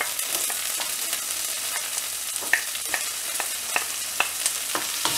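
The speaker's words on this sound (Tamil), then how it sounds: "வெங்காயம் ஆட் பண்ணிட்டு இது நல்லா ஃப்ரை பண்ணி எடுக்கணும்" Onions fry in a pan after mustard seeds have popped, a bright continuous sizzle close by with scattered sharp crackles and pops.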